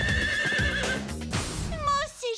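A cartoon horse gives a high, wavering neigh that rises and falls in pitch. It comes at the end of a short burst of lively animated sound.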